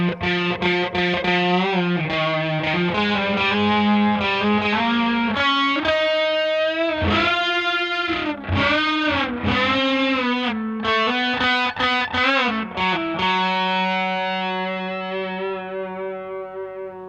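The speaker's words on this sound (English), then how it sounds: "chuck a little bit of drive on at the end" An Artist AP54J electric guitar played through overdrive rings out a loud, continuous rock passage of sustained notes and chords, bends and quick changes, the final chord fading out over the last few seconds, with no voices.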